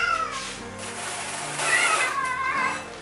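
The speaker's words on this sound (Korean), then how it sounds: "찡찡하는 고양이를 뒤로 하고" A cat meows several times in drawn-out, whiny cries, close by, rising and falling over a quiet background.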